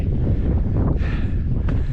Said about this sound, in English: It's a wee bit windy, but I'm at the highest bit,